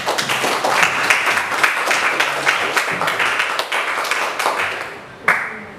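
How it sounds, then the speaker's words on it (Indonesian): A classroom of students claps together in a loud, steady burst of applause lasting several seconds, then tapering off with a few final claps. "Kita kasih aplaus."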